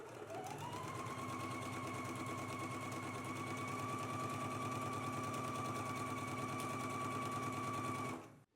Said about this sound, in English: now we can go ahead and stitch it in place